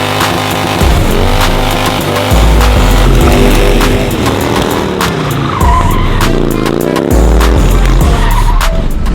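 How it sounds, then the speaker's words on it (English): A Harley-Davidson-engined mini truck spins its tires in a loud, continuous burst of engine roar and tire squeal that swells and dips over several seconds, close to the listener. "hopefully once you get the tires spinning, she can spin around at least a little bit and not end up on its side"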